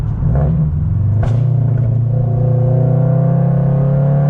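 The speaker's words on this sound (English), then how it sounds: "35, moderate braking, down to around 5 miles an hour." Toyota GR86 slowing from about 35 to 5 mph during a moderate brake-bedding stop, a steady engine and road rumble heard from inside the car with a falling drone as the speed drops.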